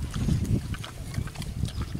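Pigs at an animal sanctuary chew and grunt while eating, close and continuous, with some wind noise over the microphone.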